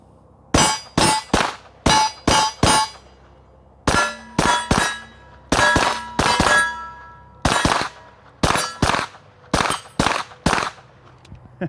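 Suppressed Stoeger STR-9S pistol firing 115 grain FMJ rounds, sharp clanging reports in rapid bursts of three to five shots separated by short pauses, loud and close.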